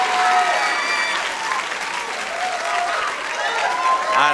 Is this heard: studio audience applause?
yes